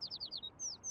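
Birds chirping in the video game Little Kitty, Big City, a quick series of four or five bright descending tweets followed by two longer ones, soft and alone.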